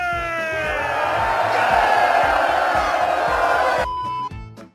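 Film crowd roaring and cheering for a knight's tale joust scene, a dense sustained mass of voices with shouted whoops, loud throughout before cutting off abruptly near the end, with music-like tones over it.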